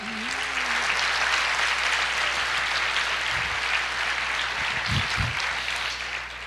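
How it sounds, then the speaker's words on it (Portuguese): Sustained applause fills a church as the congregation claps for the Lord, a thick, even roar of many hands lasting over six seconds, with a few low thumps near the end. "Você pode aplaudir o Senhor e dizer, eu creio."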